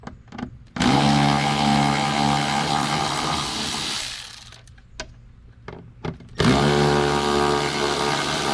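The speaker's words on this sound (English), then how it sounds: "T30 for the window motor bolts." Power tool driving out T30 Torx bolts on a window motor inside the door of a Chrysler 200: a loud, steady whirring burst, a pause with light handling clicks, then the tool spins up again, close by.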